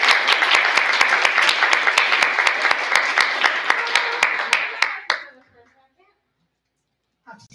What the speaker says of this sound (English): Another round of applause for Ms. Joy.